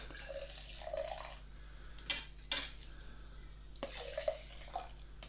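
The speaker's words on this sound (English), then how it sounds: "I'm going to give that a little stir just to dilute it down" Milk stirred into yoghurt gives faint liquid swishing and a few soft spoon clinks against the container, close and quiet, with no talking.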